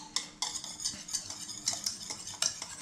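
Close, rhythmic stirring of a sugar mixture for a homemade chocolate cake, a spoon repeatedly scraping and clinking against the bowl in quick regular strokes, with no voices.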